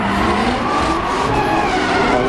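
Falken drift car performing gymkhana at the 2013 International Motor Show in Luxembourg, a loud engine revving hard with tires squealing and skidding continuously, close and with no voices.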